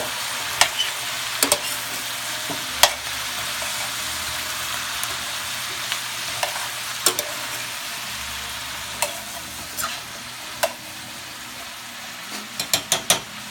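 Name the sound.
pot roast meat sizzling in pot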